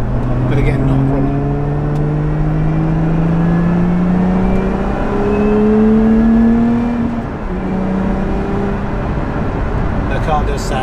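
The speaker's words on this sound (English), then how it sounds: "The car does sound absolutely fantastic." Lotus Emira sports car engine heard from inside while driving, a loud steady drone with rising pitch sweeps as it accelerates through gears, continuous over about eleven seconds.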